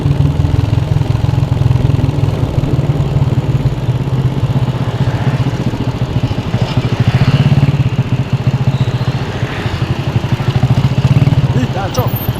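Motorcycle fitted with a loud aftermarket exhaust, engine running with a throaty, rapid-firing drone that swells in a couple of revs, loud and close throughout, with voices talking over it.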